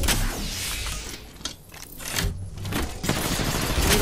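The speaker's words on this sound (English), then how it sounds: "I am taking fire, friends." Gunfire aimed at the player in a multiplayer shooter game, a dense, loud stream of shots and impacts that thins briefly mid-clip before surging again, with mechanical clatter underneath.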